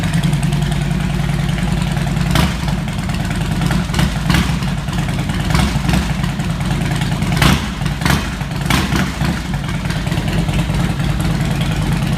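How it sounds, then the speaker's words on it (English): A 2005 Harley-Davidson FLHT motorcycle engine idles with a deep, steady rumble, broken by a few sharp clacks and knocks; no voices. "The engine on the pipe sounds really good."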